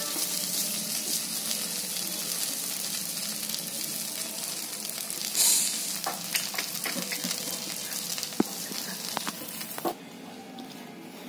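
Rice-flour ghavane batter fries in oil on a dosa tawa with a continuous close hiss and light crackle, which fades noticeably near the end.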